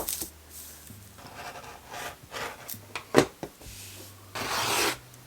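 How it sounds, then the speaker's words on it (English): Scissors cutting through Merchant & Mills fabric for a bandana headband shape, rasping snips and rubbing strokes in uneven bursts, close and moderately loud with no talk. "I'm just going to cut my shape out."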